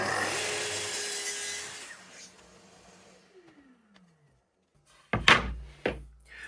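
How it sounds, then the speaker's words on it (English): A saw cuts spare bevels in wood, its steady whine and rasp running for about two seconds before winding down, followed by quiet and then a couple of sharp wooden knocks and thuds nearby. "While the saw's set up, I'm also cutting a spare couple of bevels"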